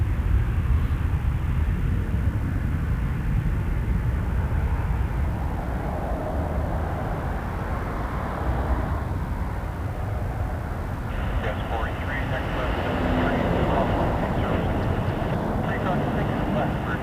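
Embraer 175 airliner engines roaring at Toronto Pearson Airport, a broad steady rumble with a brighter whine later on, under intermittent talking.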